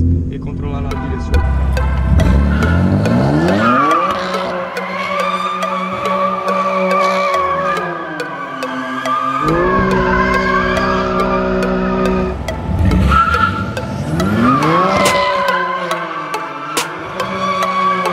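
BMW M4 spinning donuts, tires squealing in long sweeping wails as the engine revs rise and fall in repeated surges, loud and close.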